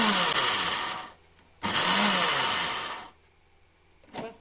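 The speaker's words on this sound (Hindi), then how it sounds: "इसको मशीन में डालेंगे और इसको पीसेंगे" An electric mixer grinder runs in two loud bursts of about a second and a half each, coarsely grinding whole spices for mango pickle, with a short pause between them and a brief clatter at the end.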